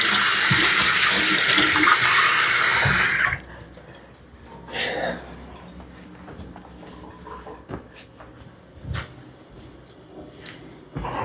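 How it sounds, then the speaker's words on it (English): A tap runs in a strong, steady gush for about three seconds as hands are washed, then shuts off. Quiet kitchen clatter and faint bumps follow. "Let me just wash my hand again."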